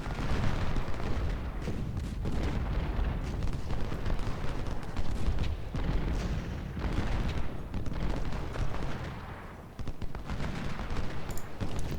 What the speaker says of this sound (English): What are cannons firing at?